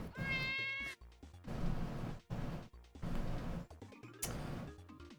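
A pet cat named Crunchy Cat meows repeatedly, several clear rising calls, close and loud, broken by short pauses, with no talk over it.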